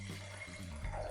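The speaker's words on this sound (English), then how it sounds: "Now you're going to need to start by pouring yourself a drink." Rosé wine is poured into a glass, a brief close liquid trickle and splash lasting about a second.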